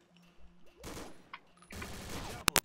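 Gunfire in the video game Hunt, with short bursts of shots and a pair of sharp, loud reports at the end over quiet game ambience.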